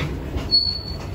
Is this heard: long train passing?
yes